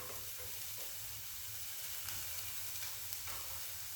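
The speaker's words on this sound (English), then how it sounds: "So the onions are just starting to cook there nicely." Onions fry in a pan as the base for a chickpea curry, giving a steady, close sizzle with constant hiss and occasional stirring scrapes throughout.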